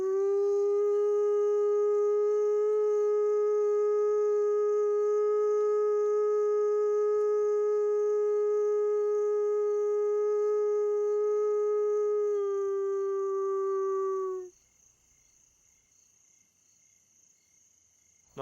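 A single wolf howls in a long, steady, sustained tone with a slight drop near the end, set in a park wilderness with a constant insect buzz behind it, then quiet remains.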